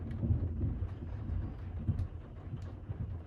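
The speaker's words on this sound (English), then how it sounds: "but there is some thunder and lightning." Low rumbling thunder rolls during rain at a lake campsite, a deep steady murmur with soft rain patter, heard close from shelter without any voices.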